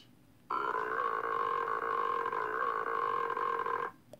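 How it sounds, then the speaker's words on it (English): A long, loud, sustained burp from a cartoon character, about three and a half seconds of steady croaking tone, heard alone. "Yup and burped."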